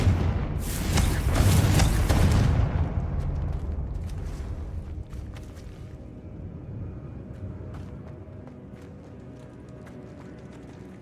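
Confringo blasting spell in the game Hogwarts Legacy, a loud close explosive burst that booms for a couple of seconds and then fades into a long rumbling tail with faint crackles.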